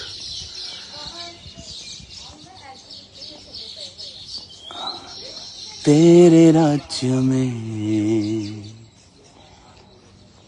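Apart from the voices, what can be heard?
birds chirping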